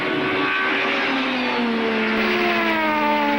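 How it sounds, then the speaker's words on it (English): A 1997 Volvo touring car at Donington Park, racing in the British Touring Car Championship, with its engine howling at high revs, a loud, sustained rising whine heard close and alone, pitch climbing steadily as it accelerates. "You can hear the Volvo howling at its absolute limit."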